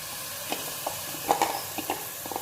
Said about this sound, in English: Now that my veggies are done and I've mixed the salt, I'm going to add rice to this.